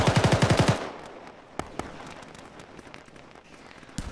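Automatic gunfire in a military tactical shooter game: a rapid burst of about ten loud shots at the start, followed by a couple of isolated distant reports over background ambience.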